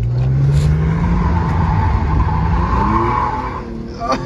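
Infiniti G35 with a Magnaflow exhaust accelerating hard in first gear, a loud close engine drone rising in pitch with a tire-squeal quality, then easing off near the end.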